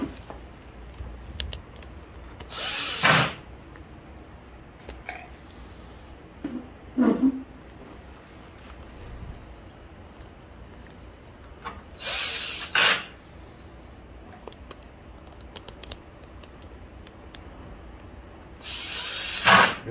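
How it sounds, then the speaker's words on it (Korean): Screws are driven into a Fuji Xerox ApeosPort V C4475 copier being reassembled after an overhaul, with several short bursts of a powered screwdriver whirring between quiet stretches of small handling clicks. "이제 나사를 채워주시면 됩니다"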